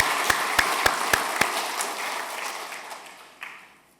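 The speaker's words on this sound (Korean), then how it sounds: "큰 박수로 환영하겠습니다" A church congregation applauds to welcome a pastor at a Sunday service: five sharp, evenly spaced claps lead into a brief scattered patter that fades away, with a small bump just before the end.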